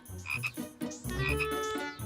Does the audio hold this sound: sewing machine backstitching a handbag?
no